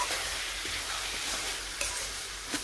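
Vegetables with jaggery cooking down in a pan in a village kitchen, giving a steady soft sizzle with faint stirring scrapes and a couple of brief clinks, close and continuous without talk.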